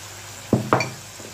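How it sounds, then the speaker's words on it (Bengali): Spices are stirred and sautéed on high flame in a pan, a low background sizzle broken by two quick, close scraping clatters of a spoon against the pan. "চলো ফ্লেমটাকে হাই করে দিলাম, দিয়ে ভালো করে মশলা কষিয়ে নিতে হবে।"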